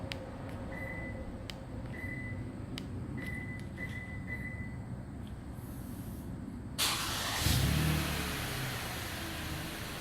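A Toyota Sienna minivan's engine comes to life by remote start: steady quiet background, then a sudden broad whoosh partway through, settling into a low, steady idling rumble.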